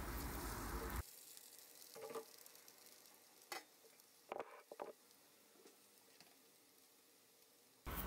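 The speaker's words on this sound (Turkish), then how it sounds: "Hiç bekletmeden ocağın büyük gözünü alarak şöyle orta ateşle arkalı önlü nar gibi kızarana kadar kızartıyorum." Food frying over medium heat in a pan on a stove, turned front and back until deep golden; a steady faint sizzle runs throughout, with a few short stirring or turning clatters.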